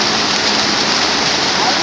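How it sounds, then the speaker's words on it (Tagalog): Heavy rain falls in a dense, unbroken roar, a loud and even wash of spatter with no pauses across the whole stretch. "malakas na ang ulan"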